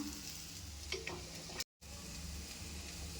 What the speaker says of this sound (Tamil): இந்த கருவாடு கொஞ்ச நேரம் இதுலேயும் நல்லா வதங்கணுங்க